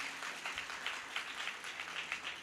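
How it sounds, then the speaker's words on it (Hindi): An audience at a Hindi poetry recital applauds steadily, a dense wash of clapping from many hands that holds at an even level throughout. "कोलाहल शांत हो गया तालियों का, तो एक बार और जोरदार कोलाहल कर दीजिएगा।"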